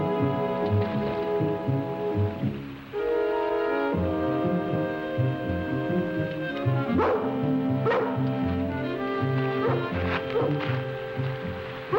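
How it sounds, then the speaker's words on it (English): A dog barks and yips several times over a busy musical background, the barks coming in short bursts toward the end. "Sounds like Lassie's found our trouble"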